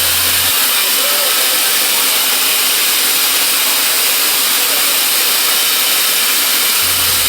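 A rare wood-burning steam engine on a tourist route in Borneo, running with a loud, dense continuous hiss and roar that stays steady throughout, with no voices.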